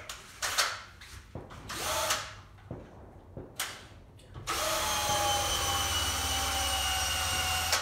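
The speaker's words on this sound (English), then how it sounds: "If I use the rotor brush" A rotor brush spinning against a ski base to clean its structure: several short scraping brush strokes first, then a loud continuous high whir of the spinning brush that runs to the end.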